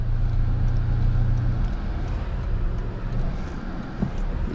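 A Toyota Tacoma TRD Pro rolling along a rough dirt road, a steady low engine drone and broad road rumble filling the whole stretch, close and continuous with no voices.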